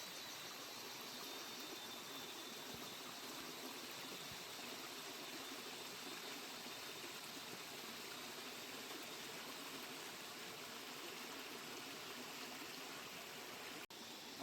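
A forest stream, a small nala, flowing steadily: a continuous, faint wash of rushing water with no clear breaks, heard at night in the jungle.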